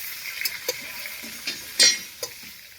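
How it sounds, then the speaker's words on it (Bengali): Cauliflower frying in a pan for khichuri on an open rooftop in cold weather, a soft steady sizzle with intermittent light scrapes and clicks of stirring, one louder scrape standing out. "ফুলকপি ভাজি হচ্ছে।"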